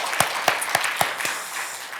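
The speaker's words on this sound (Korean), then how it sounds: "오늘 이 마음 다 담아 우리 하나님께 큰 영광의 박수 올려드리도록 하겠습니다." Clapping in a church congregation during a Korean Sunday worship service, a handful of sharp, evenly spaced claps heard close and then tapering into soft, diffuse applause.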